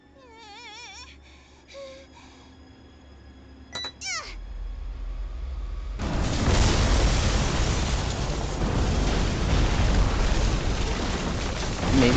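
A huge explosion in The Hundred Line: Last Defense Academy erupts after a few short whimpering, meow-like game sounds and quick bursts, becoming a loud, sustained rumbling roar that fills the rest of the clip.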